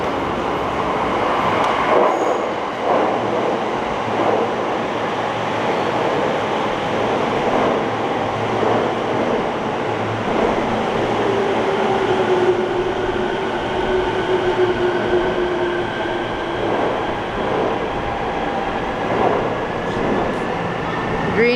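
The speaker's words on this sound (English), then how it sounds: "Hey guys, that's our train coming." A Japanese train rolls into a station, its steady rumble filling the platform with rising wheel squeal and rail clatter as it arrives, heard close and continuous with some background voices.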